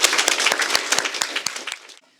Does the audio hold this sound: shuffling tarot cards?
no